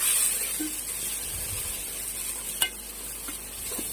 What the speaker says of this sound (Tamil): தக்காளி, வெங்காயம், பூண்டு இது மூணும் நல்லா பொன்னிறமாக வர அளவுக்கு நல்லா வதக்கி எடுத்துக்கலாம்